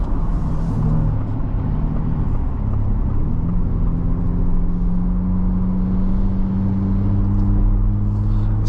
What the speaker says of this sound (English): Sounds good for a V6.